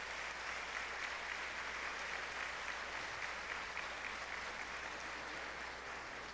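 A church congregation at a hillside feast novena gives warm, sustained applause welcoming Padre João Paulo, dense and steady throughout at a moderate distance.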